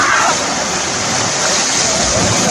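Pepper Waterfall cascades over rocks in a loud, dense, continuous roar heard up close, with no pauses.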